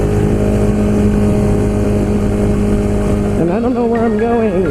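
A Ducati Monster 821 motorcycle is ridden on a bumpy road, its engine a loud, steady, close drone that shifts pitch near the end as the revs rise and fall.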